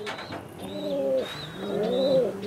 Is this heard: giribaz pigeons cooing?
yes